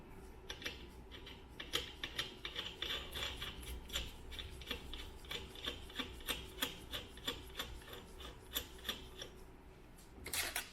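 Tightening the left-hand nut on a Triumph 650 unit engine, faint rhythmic metallic ratcheting clicks repeating steadily about once or twice a second, close up and quiet, with no talk.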